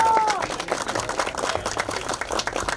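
Audience applause at a 2022 Turkish track championship award ceremony in İzmir, a short burst of steady clapping from a crowd, close and moderately loud.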